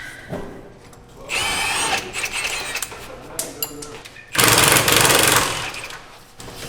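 A battery-powered impact gun pulses in two loud, rattling bursts in a garage during a Corvette C6 Z06 build, with people talking and shouting around it.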